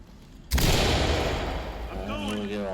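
A door kicked in and a flashbang detonating during a breach in the tactical shooter Ready Or Not: a sudden loud broadband blast that rings out and decays over about two seconds, with a faint tone lingering after.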